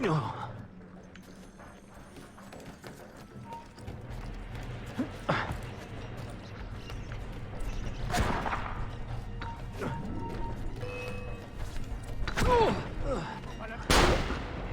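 Gunfire in the video game Assassin's Creed Revelations, with several sharp shot bursts spread across a busy game soundscape, the loudest near the end, while a player talks over it.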